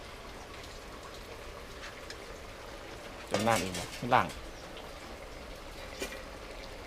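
Soft, steady rain patters outdoors during a rural Thai cooking session, a constant faint hiss beneath two short bursts of nearby speech.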